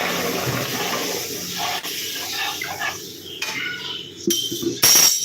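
Water is poured over fried lentils in a pan, producing a close, splashing gush with clinks and bursts of hiss that grow louder toward the end.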